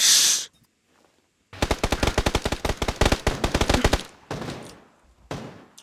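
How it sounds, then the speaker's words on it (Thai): Automatic weapon fire in PUBG: after a brief loud burst and a pause, a long rapid string of close, punchy shots rattles on, followed by a few scattered shorter bursts. "มันยิงกันวะ"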